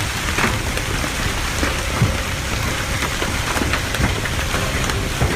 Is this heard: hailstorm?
yes